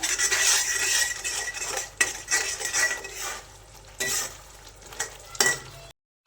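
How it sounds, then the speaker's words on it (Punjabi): Spoon stirring coriander powder and spices through hot oil in a pan, a steady scraping sizzle with clinks of metal and a few louder knocks, no talking, then a sudden cut to silence at the end. "ਇੱਕ ਚਮਚਾ ਆਪਾਂ ਪਾਵਾਂਗੇ ਧਨੀਆ ਪਾਊਡਰ ਦਾ ਮਸਾਲਿਆਂ ਨੂੰ ਮਿਕਸ ਕਰ ਲਾਂਗੇ ਆਪਾਂ"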